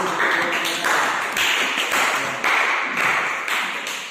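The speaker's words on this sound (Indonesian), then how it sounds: "kita berikan tepuk dulu" A group in a classroom lesson claps in a patterned rhythm, with dense bursts of hand claps repeating in regular phrases. The clapping is loud and close, with no talking.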